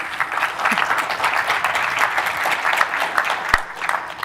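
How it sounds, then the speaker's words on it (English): Conference audience clapping in a hall, brisk irregular applause from many hands, fairly close and steady with one sharp thump near the end. "easy applause on that one."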